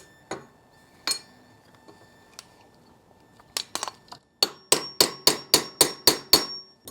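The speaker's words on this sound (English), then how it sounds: "we take a hammer and a chisel and we tap them out" A hammer strikes a chisel to tap bearing races out of the steering stem of a VFR/CBR hybrid sport bike during a fork upgrade, a few scattered taps followed by a fast, even run of about ten sharp, close metallic blows.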